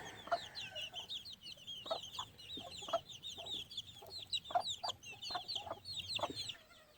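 At a gamefowl farm, a hen with nine chicks clucks in regular soft calls while many chicks peep constantly and high-pitched, all close by.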